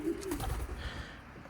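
A pigeon in a home coop gives a single low coo at the start, then fainter murmuring and soft rustling carry on quietly behind it.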